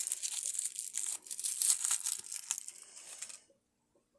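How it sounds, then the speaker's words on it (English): Paper-wrapped toy package being torn open, with close, busy crinkling and tearing of paper for about three seconds before stopping abruptly into near silence; no talking. "Let's open the next one that's wrapped in paper too."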